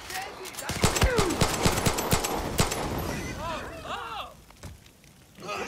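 A horse gallops in Far Cry 6, giving quick, fairly loud hoof clops mixed with sharp game effects and chirpy bird-like calls, then fading a little toward the end.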